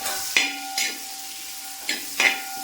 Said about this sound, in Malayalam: പച്ചമുളകും കൂടി ഇട്ട് കൊടുക്കാം നാലായിട്ട് കട്ട് ചെയ്തിട്ട് മുറിച്ചെടുത്തിരിക്കുക അത് നമ്മൾ ഇട്ട് കൊടുക്കുക മൂപ്പിക്കാനായിട്ട്